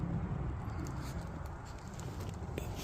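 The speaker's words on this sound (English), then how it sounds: "Here comes the rain." Rain patters down outdoors by a creek during an enduro ride, a steady, soft hiss of drops with faint scattered taps throughout.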